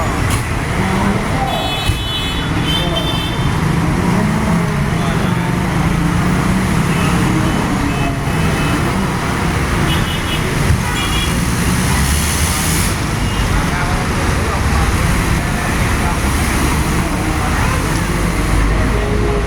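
Busy traffic on EDSA with engines rumbling and a bus passing close, steady and loud throughout, with faint voices under the noise.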